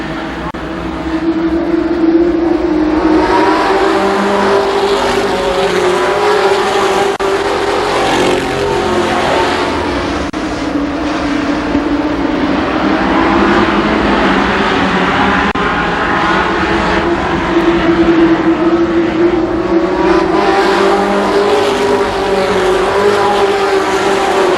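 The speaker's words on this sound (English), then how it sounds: "It's sportsman cars." Sportsman race cars racing at Columbus Motor Speedway, engines roaring continuously as a pack, loud and droning with rising and falling passes, no pause across the whole stretch.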